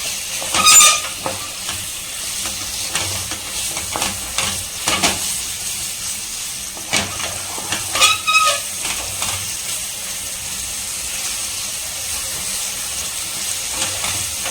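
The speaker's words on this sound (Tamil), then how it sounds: "இந்த ஆயிலே நல்லா இது வந்து ரோஸ்ட் ஆகிடும் சிக்கன்" Chicken pieces roast in hot oil in a pan, a constant soft sizzling hiss broken by occasional scraping and stirring strokes, fairly close and without talk.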